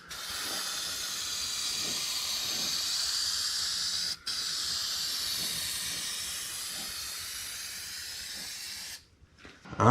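Spray gun laying coating into the seams of a 1959 Dodge Coronet body panel near the pinch weld, a steady close hiss running almost ten seconds with one brief break midway and a sputtering stop at the end.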